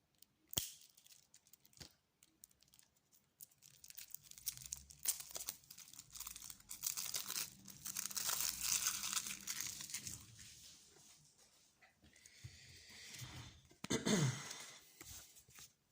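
Speed Duel card deck packaging torn open by hand, a long run of close crinkling, rustling and ripping plastic with sharp tears and pauses, with a sigh near the end.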